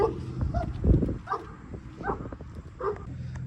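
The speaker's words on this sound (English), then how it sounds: "That dog barking like hell." A dog barks and yips several times at irregular intervals, fairly close, over low background rumble.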